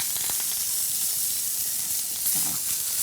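Lamb noisettes browning in a hot pan give a steady, loud hissing sizzle that fills the whole stretch, with small crackles and spits, and no voice over it.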